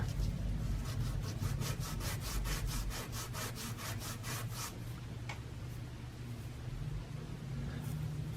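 Abrasive paper rubbed by hand over a small wooden mitre for a model railway station canopy, about fifteen quick, regular rasping back-and-forth strokes close up, then quieter with a faint scrape or two, no talking.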